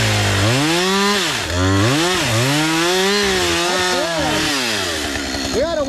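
A chainsaw cuts a tree for firewood during overgrown-lot land clearing, its engine loud and close, revving up and bogging down repeatedly as the pitch swoops with the load.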